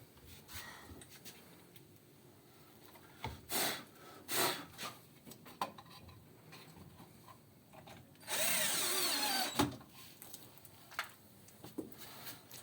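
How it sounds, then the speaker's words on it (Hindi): A cordless drill whirs in short bursts, with several brief revs and one longer sustained run near the middle, heard up close over quiet room noise with no talking. "कॉर्डलेस ड्रिल्स इस मामले में बहुत ज़्यादा हेल्पफुल हैं"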